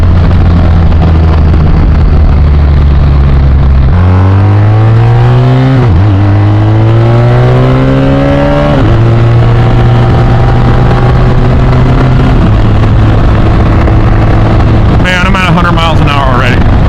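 A BMW R 1250 RT motorcycle accelerates hard, its loud engine climbing in pitch and dropping briefly at several quick-shifter gear changes, with heavy wind rush over the microphone throughout.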